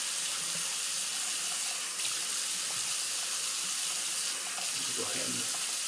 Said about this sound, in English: Rinse all this soapy stuff off my hand.